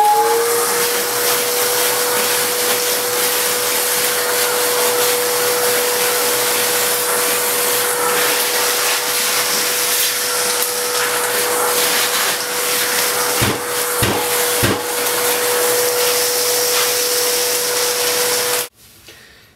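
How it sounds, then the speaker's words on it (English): A vacuum cleaner runs steadily with a loud, constant whine and hiss as it sucks up ceramic tile and thinset debris from a floor, with a few brief dips in pitch before it shuts off at the end. "go ahead and vacuum up the rest of this stuff to try to keep it out of the house"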